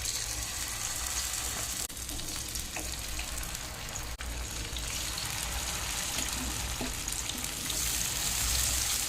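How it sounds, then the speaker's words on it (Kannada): Marinated fish sizzles and spits steadily in a frying pan, a dense crackling hiss that stays constant throughout with only faint handling noises. "ನಾನಿವಾಗ ಮೀನು ಫ್ರೈ ಮಾಡುವಾಗ ಒಂದು ಮುಚ್ಚಳವನ್ನು ಮುಚ್ತೇನೆ."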